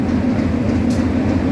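A train approaching a station platform, a steady low rumble with a faint metallic hiss, continuous and fairly loud throughout, no voices.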